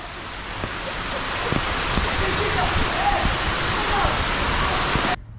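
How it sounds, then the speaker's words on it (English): Heavy rain pours down in a dense, steady roar, close and loud throughout, then cuts off abruptly at the end. "can you see how much this is coming down? Honestly, normally this amount of rain would be kind of shitty"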